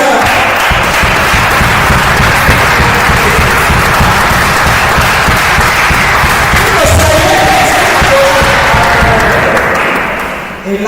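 A congregation at a prayer night applauding for the Lord, loud sustained clapping with cheers and shouts mixed in, holding steady for about ten seconds before trailing off at the end.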